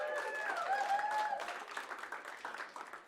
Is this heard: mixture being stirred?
no